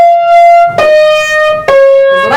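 Piano played forte, a loud descending run of separate notes from G down to C, each struck firmly with bright harmonics ringing over a low rumble, close and clear with no talking.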